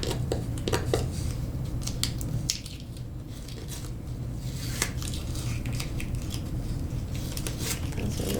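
Scissors snip off a tag on a Christmas storm door wreath kit made of MDF, a few quick close crisp cuts and rustles followed by quieter handling noise.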